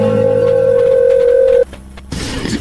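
A telephone tone sounds loud and steady, then cuts off abruptly, followed by a brief quieter gap and a burst of line noise as the call connects.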